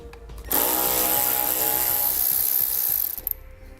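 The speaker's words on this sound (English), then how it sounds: "We'll be using a 10mm socket." A ratchet wrench with a 10mm socket works loose the bolts on the bottom of a 2015 Chevrolet fascia, giving a steady, close mechanical whirring and clicking that runs for about two and a half seconds and then stops.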